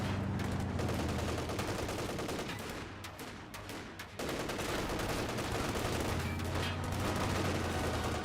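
Thompson submachine gun fire in Company of Heroes 2, with sustained rattling bursts and overlapping shots in a battle, a brief lull near the middle, then renewed firing, moderately quiet overall.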